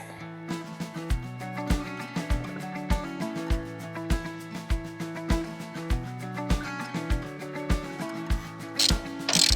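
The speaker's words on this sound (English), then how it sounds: "you need the bolts and washers, a 9/16 socket" A socket ratchet with a 9/16 socket tightening the base bolts and washers of an OzGlide 4.5t Taipan caravan hitch, giving a steady run of close, crisp metallic clicks in short bursts, with a brief rustle near the end.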